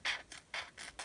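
Scissors cut a self-adhesive repair patch in a quick run of about four crisp, close snips within a second, with no speech.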